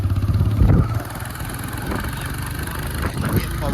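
A motorbike idles nearby during a festive Diwali outing, its engine a steady low rumble with some background talk.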